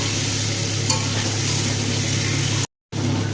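Onion and paneer being stir-fried with spices in a pan for chilli paneer, cooked with little oil: a steady close sizzle with stirring and scraping, briefly cut to silence near the end.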